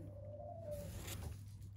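An injured feral rock dove softly coos once indoors, a faint low drawn-out note over a steady hum and quiet background rustle.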